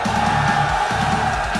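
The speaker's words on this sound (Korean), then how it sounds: "함성 한번 주세요." A packed studio crowd at an esports gaming event cheers and whoops in a continuous, loud roar that stays steady for a moment, with no one speaking over it.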